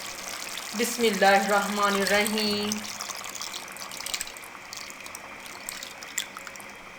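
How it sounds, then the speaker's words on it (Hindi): A cup of water poured into a cooking pot of fried chicken for chicken haleem, a soft steady splash running on after a short spoken blessing at the start. "अब इसमें हम 1 कप पानी डाल देंगे।"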